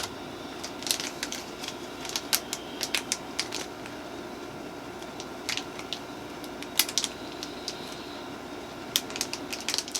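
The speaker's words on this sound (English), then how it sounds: "So let's just rip her open." A cosmetics product package, a gel paint duo in electric pink and blue, being ripped open by hand: close crinkly tearing and sharp crackling snaps scattered over a quiet background hiss, with no voices.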